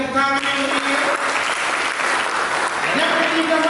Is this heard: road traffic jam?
no